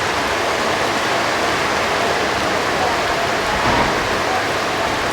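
Rain falls steadily as a dense, even hiss during a passenger train journey between Raipur and Itwari near Gondia, loud and unbroken throughout.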